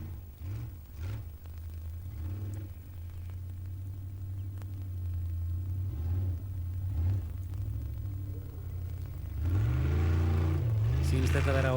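Modified off-road competition vehicles churn through a boggy hillside at an Akureyri event, engines droning low and steady then rising into a louder, strained roar near the end, with a commentator speaking over them.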